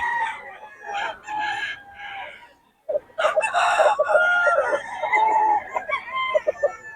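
Roosters crow repeatedly at a chicken market in Bocaue, loud, close and overlapping, with clucking between calls and a short pause near the middle.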